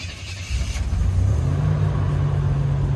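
A turbocharged 1984-87 Buick engine revs up from a lower rumble to a steady raised drone under throttle, close and fairly loud.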